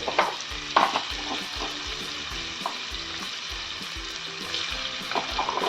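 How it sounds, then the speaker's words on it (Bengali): Prawns sizzling in hot oil in a pan, a steady crackling fry with occasional stirring clatters, close and moderately loud with no voices. "এবার তেল গরম হওয়ার সাথে সাথেই দিয়ে দেবো আমি চিংড়ি মাছগুলোকে হালকা করে একবার ফ্রাই করে নেব।"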